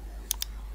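Two quick, crisp clicks of a computer mouse in close succession, sharp and near over a low steady hum.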